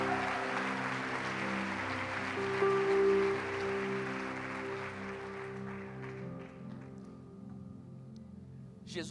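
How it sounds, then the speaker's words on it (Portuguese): Applause from a church congregation at a worship service, a steady broad patter of clapping lasting throughout and fading slightly toward the end, with sustained music playing underneath. "Vamos dar mais uma salva de palmas para essa galera"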